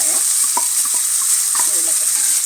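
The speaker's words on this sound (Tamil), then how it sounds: "இது நல்லா இந்த எண்ணெயில் நல்லா வதங்கணும்" Bitter gourd, onion, green chili and curry leaves sautéing in hot oil: a loud, dense, continuous sizzle with light stirring clicks close by.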